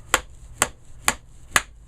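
A hammer taps a Tapco stock into place on a Mini-30 rifle. Four sharp, evenly spaced knocks land about half a second apart, close and clear, with no talking.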